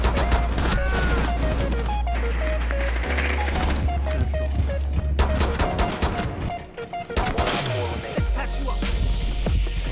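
Rapid bursts of gunfire in the Overwatch video game, loud and close, with repeated sharp shots in fast strings, some mechanical clatter and a brief lull near the middle.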